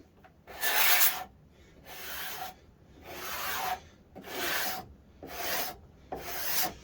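A hand scraper rasps along a carved mahogany neck-through guitar neck in six slow, even strokes separated by short pauses, each a dry, close scraping sweep with no talking.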